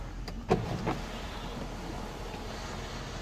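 Power sunroof on a Chevrolet Suburban opening: a short clunk near the start, then a quiet, steady electric motor whir close by inside the cabin, with no voices.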